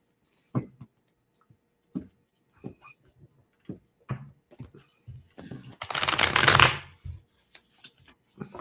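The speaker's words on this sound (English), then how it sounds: "You can hear Jeffrey shuffle his cards." Tarot cards are shuffled close by in a quiet workspace, with scattered soft card taps and flicks leading to one dense riffling burst near the end; no talking.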